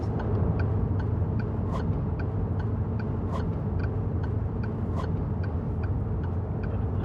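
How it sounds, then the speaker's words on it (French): A self-driving truck's turn signal ticks in an even, steady rhythm while the vehicle overtakes, heard inside the cab over a constant loud road and engine rumble. "Il a mis les clignotants, il a dépassé."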